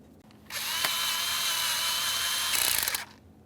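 A power driver runs steadily for about two and a half seconds, tightening 10mm-headed mounting bolts on a 3.6L V6 engine of a GMC Acadia during a VVT solenoid replacement, close and loud with a brief change in pitch near the end.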